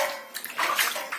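Hot water gushing and splashing through a flooded apartment from a burst riser pipe in a high-rise, a steady hissing pour with bursts of sloshing spatter, close and fairly loud.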